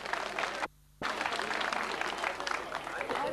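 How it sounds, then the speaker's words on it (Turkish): Crowd clapping in an open town square during a local culture and arts festival, a dense burst of applause broken by a brief gap, with a voice speaking over it. "Çakırcalı muhtarı Veysel Bey'e canı gönülden yürekten alkış istiyorum."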